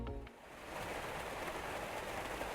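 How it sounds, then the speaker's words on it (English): Torrential rain pounds a car on a highway, a dense, steady wash of hissing noise that rises after a brief lull and keeps roaring without pause. "the entire car is engulfed by a wave of torrential rain"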